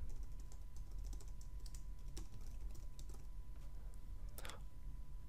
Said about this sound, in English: In the Email Address field, type in the email address you're wanting to set up.